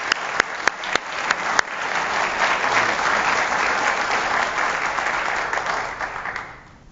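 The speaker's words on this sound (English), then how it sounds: "let's give all of them a really warm round of applause" Warm applause from the audience at a foundation's Lettie Pate Day 2024 event: a few sharp opening claps swell into sustained, dense clapping that fades out near the end.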